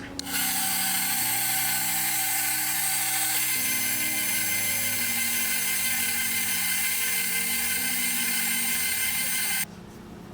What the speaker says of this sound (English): So now I'm going to mix this together just to help cool down the dough a little bit.